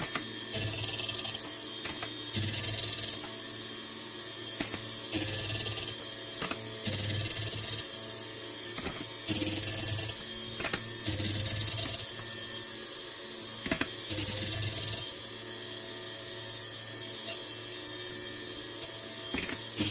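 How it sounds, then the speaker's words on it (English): A Model 09 point splitter grinding a drill bit held in a flipped chuck: repeated mechanical grinding bursts of a few seconds each, separated by short pauses, over a constant machine hum. "Flip the chuck, and grind the other side."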